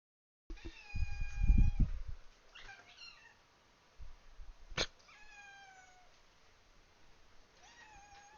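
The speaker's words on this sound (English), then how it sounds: "Your cat sounds like a deflating balloon." A pet cat named Chrissy meows several times in drawn-out, whining calls, with a low growl-like burst near the start and a short sharp sound midway, fairly close and without any talk.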